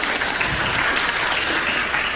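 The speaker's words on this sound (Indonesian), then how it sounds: "Tepuk tangan yang kuat." An audience of students in a religious Q&A session applauds, a steady, dense wash of clapping that runs evenly for the whole stretch without any voices.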